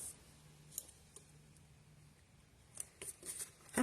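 Cheap scissors snip through paper in a few faint, close crisp cuts, with quiet rustling between them.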